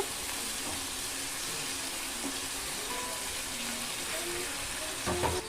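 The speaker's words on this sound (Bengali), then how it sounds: "এবার আমি পরিমাণ মতো জল দিয়ে দেব" Water poured into browned chicken curry frying in oil, a steady close hiss and rushing splash that stays even throughout, with no voices.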